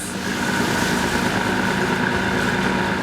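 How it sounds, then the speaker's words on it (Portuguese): Steady low engine drone aboard the research ship Ciência do Mar I at sea, constant rumbling hum with a faint tonal whine, loud and continuous with no talk. "As ondas e o barulho do motor são desafios."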